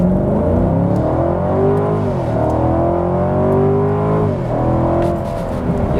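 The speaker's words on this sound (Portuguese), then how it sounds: "Vamos testar aqui o 0 a 100 do Camaro" A Chevrolet Camaro convertible's V8 pulls hard from a standstill to 100 in touring mode, its loud engine note climbing steadily through the gears with brief dips at each shift, heard up close and alone.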